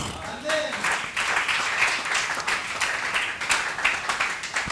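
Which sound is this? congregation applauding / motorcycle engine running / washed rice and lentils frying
congregation applauding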